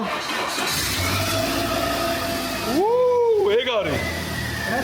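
A restored car's engine cranks and catches, climbing into a rising rev before settling into a steady idle, close and loud, with people talking nearby.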